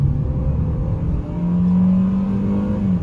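A 2021 Fiat Cronos Precision 1.8 with a six-speed automatic accelerates at full throttle on the road. The engine drones loudly from inside the cabin, then rises to a steady, higher revving tone after an upshift, with no talking.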